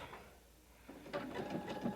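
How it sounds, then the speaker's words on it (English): A sewing machine runs a satin stitch, faint at first before its steady rapid stitching whir starts up partway through and continues close by. "I'm letting the sewing machine do all the work."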